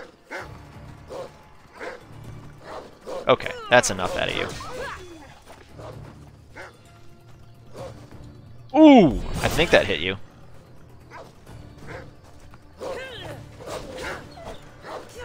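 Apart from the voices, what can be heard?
wolf growling and yelping in Assassin's Creed Odyssey video game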